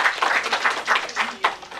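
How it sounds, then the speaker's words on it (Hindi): An audience claps to welcome a speaker at the Raza Foundation's Rameshwari Nehru memorial and book launch ceremony in 2024, a steady patter of applause rising and falling in uneven waves. "कृपया तालियों से स्वागत करें।"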